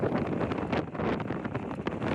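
Icy wind blows steadily across the treeless, deserted old whaling station at Port-Jeanne d'Arc on Kerguelen, a loud, unbroken roar buffeting the microphone throughout.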